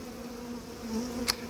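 A whole honeybee swarm gives a close, steady buzzing drone with slight wavering in pitch, a brief sharp tick near the end, no voices.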